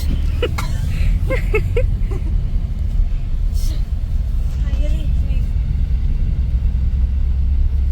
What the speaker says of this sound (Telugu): అమ్మా ట్రాఫిక్ చూడమ్మా